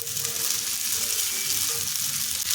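Sago pearls and fried raisins sizzling in hot oil in a pan, a steady dense crackle that fills the whole moment without pause, close and fairly loud, with no voices.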